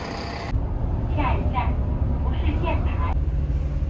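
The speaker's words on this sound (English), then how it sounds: "So we are on the bus now." Low steady engine rumble heard from inside a bus riding toward Oshino Hakkai near Mount Fuji in Japan, constant throughout beneath a person's speech.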